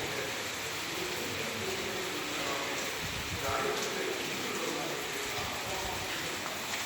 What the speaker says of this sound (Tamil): எதிர்பார்க்காத மழை நல்லா பெய்யுது.